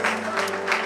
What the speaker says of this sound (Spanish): Fuerte esas palmas al Señor, son para Él